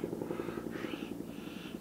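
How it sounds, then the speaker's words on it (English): A Bell Cobra air attack helicopter passes overhead above a smoky wildfire zone near Mariposa and Yosemite, its rotor giving a steady, moderately loud chopping drone with a faint engine whine that holds throughout. "So the air attack helicopter is coming right here."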